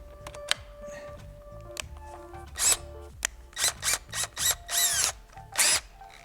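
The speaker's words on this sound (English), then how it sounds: "put it on the shaft and use our normal electric drill" An ordinary electric drill turns a connection adapter fitted onto a shaft, whirring in several short bursts of rising and falling speed, with clicks and handling noises between the runs.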